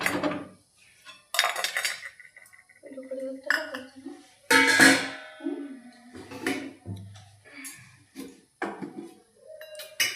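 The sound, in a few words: kadhai wok and utensils clattering on stove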